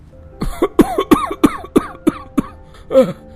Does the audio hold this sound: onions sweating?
no